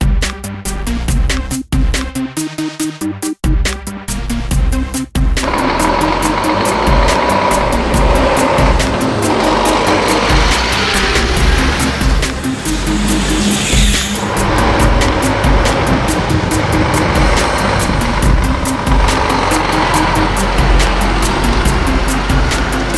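Scania P440 truck driving on the road, heard as sustained loud road and engine roar with some rumbling variation, no talking.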